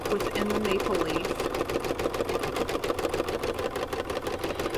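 An embroidery machine stitches a filled maple leaf design, its steady rapid needle chatter running continuously and fairly loud throughout, with faint background hum.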